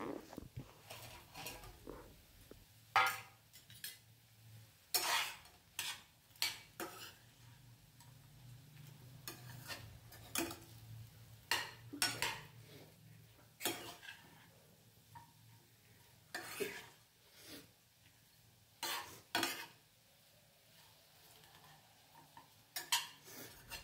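Fried cauliflower pakoras are stirred into sauce in a pan for gobi manchurian, giving irregular clinks and scrapes of a spoon against the pan with quiet gaps between strokes.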